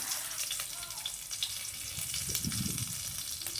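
Cinnamon, cardamom, cloves and two dry red chillies crackle in hot oil as a tempering for a Bengali mixed-vegetable chhechra, giving a steady close sizzle with a fuller burst of frying partway through.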